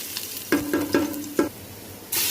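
Meat and garlic stirred in hot oil in a pan, with several distinct scraping strokes of a spoon over a steady sizzle and a louder burst of sizzling near the end.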